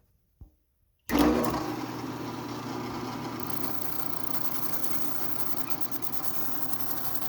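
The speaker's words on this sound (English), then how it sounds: "I have developed a lathe using a drill press" A drill press used as a makeshift lathe starts with a sudden whir after a brief knock, then settles into a steady, loud motor hum and spinning rattle.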